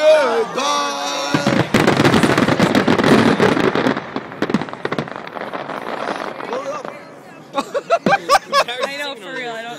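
Explosive charges fire in rapid succession during the demolition of Texas Stadium, a loud dense crackling barrage of sharp pops that thins out, with voices talking and shouting around it.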